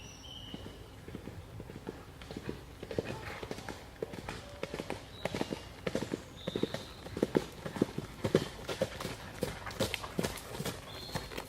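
Horse hooves clip-clop in an irregular walking rhythm, sharp knocks close by, growing a little louder over the stretch.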